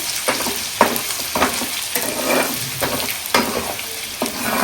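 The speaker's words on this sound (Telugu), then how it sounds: "అల్లం వెల్లుల్లి పేస్ట్ కూడా పచ్చివాసన లేకుండా నూనె మనకి హీట్ తగ్గేంత వరకు కంటిన్యూస్గా ఆయిల్లో ఉండలు కట్టకుండా మిక్స్ చేసుకోవాలి" Ginger garlic paste is stirred continuously in hot oil for a prawn pickle, giving a bubbling sizzle broken by regular scraping strokes of the spoon, close and moderately loud.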